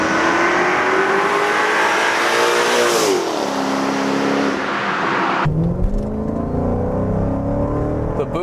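Mercedes E55 AMG accelerating hard, its engine roaring loud and close with rising pitch, a brief drop around a gear change, then pulling strongly again with wind and road noise underneath.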